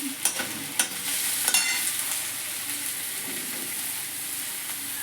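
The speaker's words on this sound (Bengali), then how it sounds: "এবার এগুলোকে ভালো করে ভেজে সটে করে নেব।" Capsicum, onion and garlic sauté in a hot pan for chicken momo filling, a steady close sizzle broken by a few sharp scrapes of the spatula early on, with no voices.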